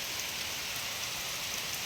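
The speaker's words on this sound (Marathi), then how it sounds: "जोरदार असा पाऊस चालू झालेला आहे" Heavy rain pouring steadily on a hillside, a dense continuous hiss of drops on surfaces, close and loud throughout with no voices.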